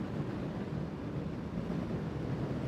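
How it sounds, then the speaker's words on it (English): Steady wind rushes over the microphone during a motorcycle ride, a constant, fairly quiet broadband roar with no voices. "it's so windy out right now"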